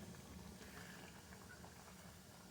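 A pot of beef stew at a steady rolling boil, giving a dense, continuous bubbling hiss with a soft patter, fairly quiet and unbroken with no talking.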